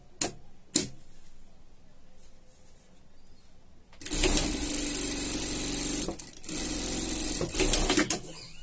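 Sewing machine running steadily while topstitching a folded-over seam on a denim jacket, a loud continuous whirring burst for about four seconds with a brief pause, after a few quiet clicks from handling the fabric.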